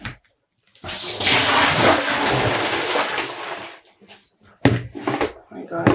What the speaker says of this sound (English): Pour out the water.